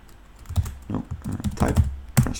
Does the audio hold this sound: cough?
no